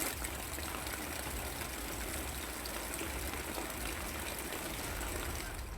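Floodwater rushing through waterlogged streets in Kerala after heavy monsoon rain, a dense, continuous gushing roar of moving water that stays loud and even from start to finish.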